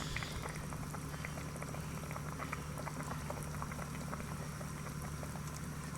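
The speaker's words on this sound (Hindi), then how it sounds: "हम ऑयल ऐड करने लगे हैं" Dense, continuous bubbling sizzle as oil is added to mutton karahi cooking in a matka pot, loud and close with no break.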